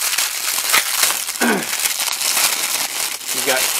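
A knife slicing open plastic packaging on a Battle Bottle accessory pack, with crinkling and crackling plastic throughout and a few sharper cuts, while a person talks over it.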